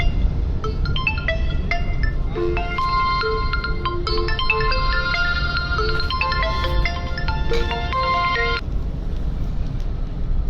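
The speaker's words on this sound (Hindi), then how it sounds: "इसी में बहुत हमारे साथियों का फोन आने लगता है, सॉरी इसके लिए।" A phone ringtone plays a repeating electronic melody for several seconds during a live Bhojpuri birha performance stream, fairly loud over a low background rumble.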